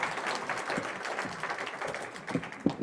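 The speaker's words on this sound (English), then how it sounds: "let's give them a huge round of applause" An audience applauds at the close of a retirement-planning talk on IRA and 401k distributions, a steady wash of clapping through the whole stretch with a few sharper claps near the end.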